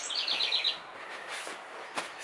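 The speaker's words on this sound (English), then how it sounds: "oh, check out these birds again." Several birds chirp outdoors in a quick burst of high tweets, then a few scattered calls follow over faint background noise.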